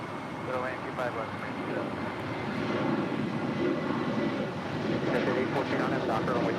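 Fixed-wing aircraft engine noise at a runway during landing, a steady broadband roar with faint intermittent speech.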